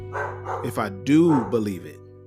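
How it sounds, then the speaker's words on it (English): A dog barks and yips close by, a few quick vocal bursts right at the start and again partway through, mixed with and partly under a man's speech. "excuse my dog"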